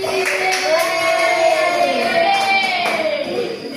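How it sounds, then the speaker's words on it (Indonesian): A classroom of students claps in applause, a sustained burst of many hands lasting several seconds, with a tonal background running underneath. "Oke, ada tepuk tangan buat tadi."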